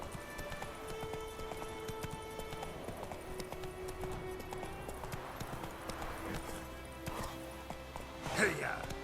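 Roach the horse gallops in The Witcher 3, with steady clip-clop hoofbeats running throughout over in-game music and ambience, with a louder burst near the end.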